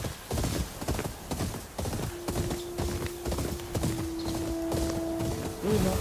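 Horses in Ghost of Yotei clop past with rhythmic, close hoofbeats on the ground, followed by a drawn-out whinny toward the end.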